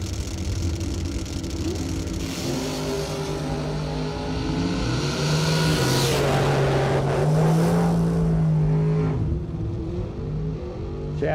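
Drag racing at a Christmas bracket event: dragster engines roar loudly and continuously, pitch climbing as the cars launch and accelerate down the strip, with a steady wall of engine noise throughout.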